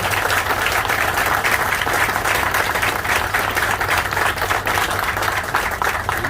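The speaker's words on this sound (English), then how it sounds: "let's give Congresswoman Sewell a round of applause" A crowd at the Birmingham Xpress transit grand opening gives a loud, sustained round of applause, thick and even from start to finish with no pauses.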